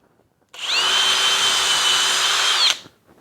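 Kobalt 24V driver/drill running at its second speed: a brief rising spin-up, then a sustained loud high-pitched whine for about two seconds before a quick stop, with no talking.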